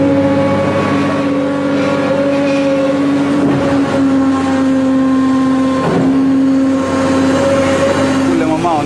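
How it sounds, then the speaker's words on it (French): A garbage truck engine idles and runs steadily in Kinshasa, a loud continuous droning hum with mild revving swells, close by and unbroken throughout. "Là, c'est un des rares camions qui est en marche."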